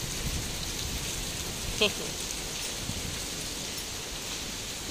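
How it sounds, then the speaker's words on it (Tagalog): Steady rain falls at Chai Wan Market in a soft, even hiss, with one brief sharp knock partway through and faint background voices. "Ulan na."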